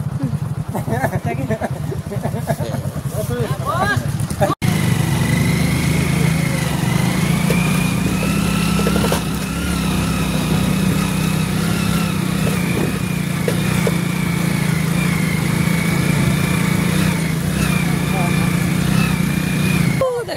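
A group of motorcycles rides together, with a steady, loud engine drone holding throughout and one sharp knock early on, while people talk over the rumble.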